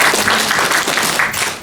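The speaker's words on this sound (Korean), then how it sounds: "우리 모두 함께 박수하시기 바랍니다" An audience applauding at a Sydney Korean community association candidates' meeting, dense steady clapping from a crowd filling the whole short stretch, loud and close.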